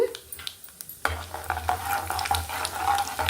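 Chana dal, mustard seeds and cumin seeds sizzle steadily in hot oil for a tempering for amla pickle, with scattered pops and crackles and spoon stirring close by.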